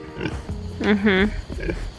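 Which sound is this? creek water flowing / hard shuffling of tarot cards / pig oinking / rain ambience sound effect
pig oinking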